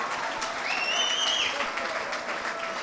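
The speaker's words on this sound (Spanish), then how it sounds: "Fuerte ese aplauso" Steady, dense applause from a crowd, continuous throughout with a whistle-like tone rising briefly above it.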